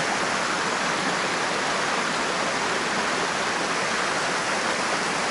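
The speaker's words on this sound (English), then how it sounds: "right now I'm just trying to make a composition on this little waterfall" A small waterfall splashes steadily with a dense, continuous broadband rush that never lets up, close and fairly loud, with no voices over it.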